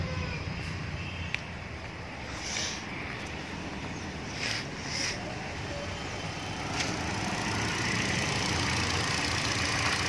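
A Hyundai Elantra engine idles smoothly after a cylinder head overhaul, a steady, even running hum close by that holds constant for the whole stretch with no voices over it.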